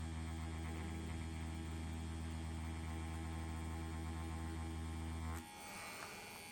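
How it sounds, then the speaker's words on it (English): Wormhole Pro Aquila tattoo machine running at about 7.2 volts with a 3-round liner, a loud, steady electric buzz with strong tonal hum, close and continuous, cutting off abruptly near the end. "I will keep quiet so you can hear the machine do its thing."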